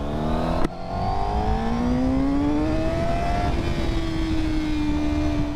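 A 2024 Honda Fireblade motorcycle pulls hard on the road, its engine whine rising steadily through the revs after a quick shift, loud and close with constant wind rush and no talk.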